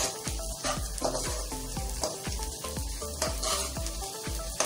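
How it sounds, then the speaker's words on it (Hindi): Garlic powder and vegetables sizzle in a hot pan for Chinese fried rice, with a steady frying hiss and repeated scraping stirs at a quick, regular rhythm, close and fairly loud with no talk. "इसको हमें फ्राई नहीं करना है, बस हल्का सा इसको हमें सौते करना है।"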